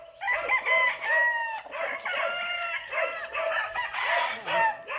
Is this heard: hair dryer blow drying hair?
no